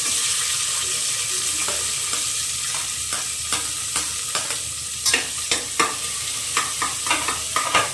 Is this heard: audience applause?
no